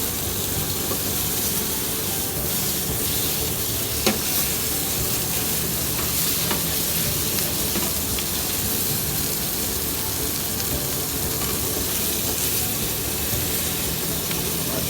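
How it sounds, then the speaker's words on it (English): Pieces of floured veal sautéing in a hot pan, scraped now and then across the bottom: a dense, even, hissing sizzle that fills the whole stretch, with an occasional faint tap or scrape and no speech. "right now we're at the last part of sauteing off our veal"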